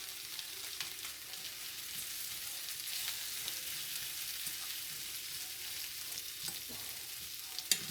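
Potatoes and onion cook in a skillet with a steady, soft sizzle and light frying crackle throughout, quiet and even, with an occasional faint stir or tick and no talking.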